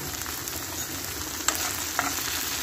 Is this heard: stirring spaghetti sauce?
yes